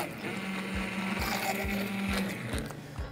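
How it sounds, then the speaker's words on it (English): An immersion blender purees figs into a barbecue sauce, making a soft, steady motor whir with faint rhythmic low thumps as it churns. "we're just going to take the immersion blender and get it started so that the figs will start to puree into the sauce"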